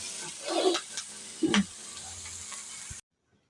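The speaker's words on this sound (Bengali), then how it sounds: "তার জন্য পেঁয়াজটা আদা লঙ্কা দিয়ে ভেজে নিলাম" Onion frying with ginger and chili in a home kitchen, a soft steady sizzle with a few louder stirring scrapes near the start and middle, ending abruptly in silence.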